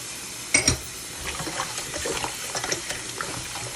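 Cold water runs from a kitchen tap while goat meat is prepared for a Jamaican curry, making a soft, steady splashing stream with a couple of sharp clinks near the start.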